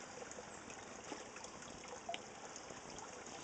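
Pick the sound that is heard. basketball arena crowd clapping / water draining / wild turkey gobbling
water draining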